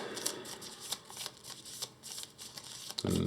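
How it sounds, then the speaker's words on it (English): A deck of playing cards from a solo tabletop board game is riffled and shuffled up close, a steady run of crisp flutters and snaps ending in a soft thud as the deck is squared. "We'll shuffle these back in."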